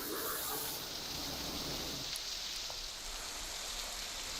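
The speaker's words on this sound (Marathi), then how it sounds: "रायगड जिल्ह्यात मुसळधार पाऊस कोसळतोय" Heavy rain falls steadily in Raigad district in a continuous soft hiss, an even wash of sound with no voices.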